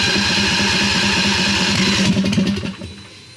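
A V-twin go-kart engine fitted with a custom header and intake mods runs loud and close, its rough lumpy rumble holding steady before dropping away near the end.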